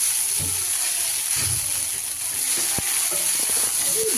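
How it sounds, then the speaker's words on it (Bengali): An egg fries in a pan with Wai Wai noodles, giving a steady, close hiss of sizzling oil with faint clinks and scrapes from a utensil throughout. "এই দেখো এখন ওয়াইটাকে দিয়ে সাথে ডিম ফ্রাই করা হচ্ছে"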